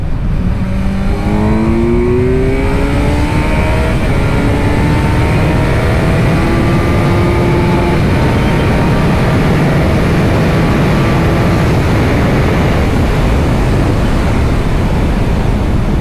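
A Kawasaki Z900 full-power 125 hp motorcycle accelerating while being ridden, its engine note climbing through repeated rising pitch sweeps under loud, constant wind rush close to the rider.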